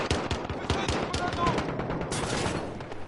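Gunfire in a Call of Duty match, rapid bursts of automatic shots in an uneven rhythm, fairly distant and moderately loud, with a denser volley near the end.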